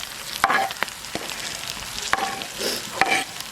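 Banana peppers and Maldive fish (masi) sauté in a pan with a steady close sizzle, broken by sharp spoon scrapes and clinks against the pan.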